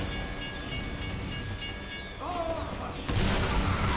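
A train rolls past in a video game match, a steady rumbling rush with a rising burst of noise near the end, over low background voices.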